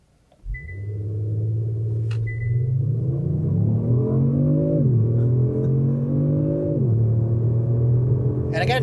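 A 2020 Kia Stinger GTS, all-wheel drive, launches hard under launch control. Its engine roars loud and close, climbing through rising revs with a few gear-change dips, over a steady low rumble.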